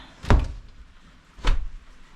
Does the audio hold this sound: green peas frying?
no